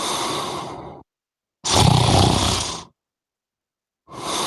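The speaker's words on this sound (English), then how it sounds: "got to use somebody else's snore because his nostrils ain't man enough to make that kind of noise" Loud, rasping snoring close up, with two long harsh breaths separated by silent gaps, then a third beginning at the end.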